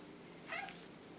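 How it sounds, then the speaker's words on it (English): A domestic cat meows once, a short rising call standing out clearly over a quiet indoor background hum. "that sounds like Fluffy Cat coming in"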